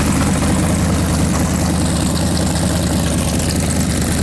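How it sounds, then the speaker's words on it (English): A 383 V8 in a Camaro runs with a loud, dense, steady engine roar that holds an even pitch throughout, close to the microphone with no talking. "rev it up, it goes up to 90."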